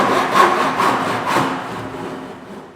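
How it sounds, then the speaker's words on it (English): Hand saw cutting wood to half depth for a rebate joint, steady back-and-forth strokes in a close, even rhythm, heard alone without talk. "Going to follow our lines down on both sides, making sure we don't cut too deep."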